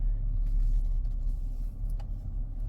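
A Volkswagen Atlas V6 SUV on the road gives a steady low rumble of engine and tire noise, heard from inside the cabin, constant and moderately loud without speech.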